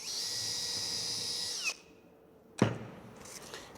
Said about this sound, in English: I'm just going to pre-drill a hole all the way through